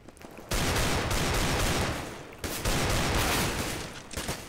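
Sustained automatic gunfire in Counter-Strike: Global Offensive roars close and loud in two long streams separated by a brief pause, with no talk over it.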